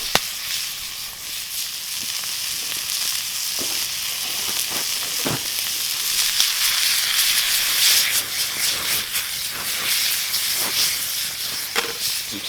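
Eight ounces of bison meat sizzles in a pan at a solo winter bushcraft camp, a steady, bright frying hiss with scattered pops and crackles throughout, close and loud, with no talking.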